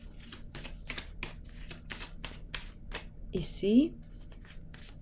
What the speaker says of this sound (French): Je vais piger une carte.